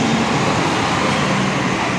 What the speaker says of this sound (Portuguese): É o ônibus aí aqui, ó.